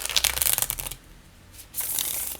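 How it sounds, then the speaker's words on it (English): Riffle shuffling of a thin-stock tarot deck, a dense rapid flutter of cards close up, pausing briefly before a second burst of shuffling. "Okay, I'm gonna try and shuffle."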